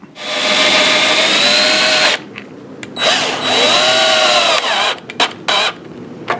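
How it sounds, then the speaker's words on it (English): A power drill drives wood screws into the prop seal of a Yamaha 225 HPDI outboard. Close and loud, the motor whines in a long run, pauses, whirs again with its pitch shifting, then ends in several short bursts. "We're gonna screw those two screws down on the side of this seal, and hopefully it'll pull on out."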